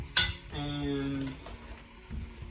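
A metal cooking pan and its lid are handled close up: a sharp clink, then a sustained metallic ringing that fades, followed by a softer knock.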